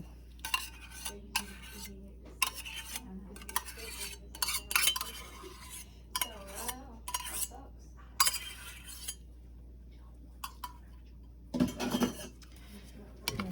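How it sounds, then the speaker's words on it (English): A spoon stirs yogurt into a bowl, giving close, intermittent scraping and clinking strokes against the dish, with pauses between bursts and a steady low hum underneath. "Stir all that together."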